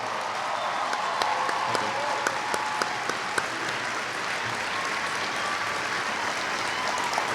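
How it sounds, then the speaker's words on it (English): A crowd at a US Air Force basic military training coin and retreat ceremony applauds a retiring chief master sergeant, sustained dense clapping throughout with a faint bright ring in the room. "would you please give me a second round of applause for Chief Master Sergeant A.J. Frank"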